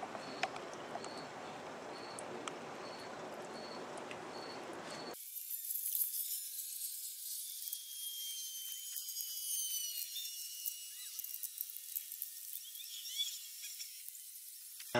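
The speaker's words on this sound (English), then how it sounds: "we're seeing some pretty decent bubble production. It's going through a one-way check valve." Small air pump at about 11 volts pushing air through a one-way check valve and clear tubing into a little bubbler, a steady hiss and hum with high whine, changing character abruptly partway through and continuing.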